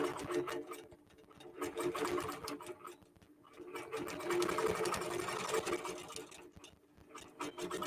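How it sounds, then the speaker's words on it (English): QBOT V3 quilting machine stitching a quilt block, a close, continuous rapid needle chatter that swells and dips in waves, with brief pauses between passes and no speech over it. "And we'll quilt this block out again."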